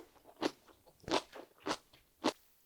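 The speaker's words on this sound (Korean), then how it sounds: "배추가 맛있어서 제가 하나 더 먹어봅니다." Crisp white kimchi napa cabbage from Gangwon highlands being bitten and chewed, four loud crunches at a steady pace, close up with no talking.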